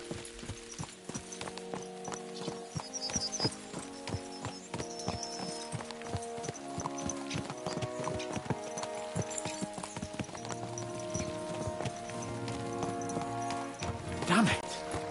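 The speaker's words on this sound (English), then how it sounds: "Let's really spur these horses on, eh?" Horses' hooves clip-clop steadily on a road in the medieval game Kingdom Come Deliverance 2, a continuous rhythmic trot under game music and talk, with a brief neigh near the end.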